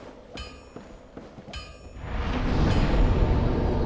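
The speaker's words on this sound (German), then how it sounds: "Ja, eine Glocke läutet." A bell rings in the Dark Souls video game: several sharp metallic clangs with long ringing tones, followed by a loud, dense rumbling swell that grows and holds.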